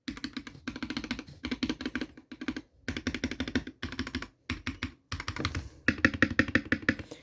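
Fast typing on a budget computer keyboard, with dense bursts of clacky keystrokes broken by brief pauses, loud and close with no voices.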